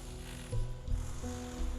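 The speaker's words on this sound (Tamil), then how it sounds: "கன்ஸ்ட்ரக்ஷன் ஒர்க் ஓடிக்கு இருக்குது அதனால தான்" Construction work behind a hilltop temple in Genting Highlands, Malaysia, gives off a steady mechanical drone with a few louder clanking surges, heard alone with no talking.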